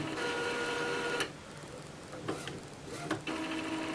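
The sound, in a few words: Epson inkjet printer charging ink cartridges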